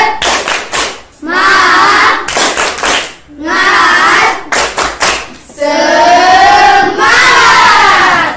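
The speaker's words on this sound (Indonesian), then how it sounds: "Semangat dulu, tepuk semangat." A classroom of students performs a rhythmic spirit clap, several loud bursts of voices chanting in unison with clapping, separated by brief pauses, close and energetic.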